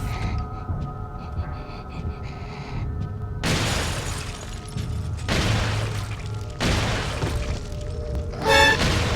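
Heavy booming explosions in the video game Resident Evil 4 burst repeatedly over a steady low rumble and hum, with crackling debris and a brief bright burst near the end.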